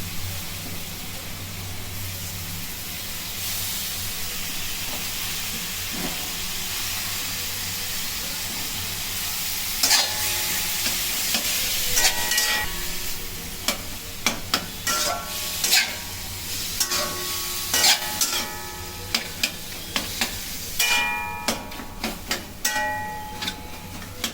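Cauliflower frying in hot oil in a wok, a steady sizzling hiss with scattered scraping and clinking stirring strokes growing busier in the second half, close and fairly loud, with no talk.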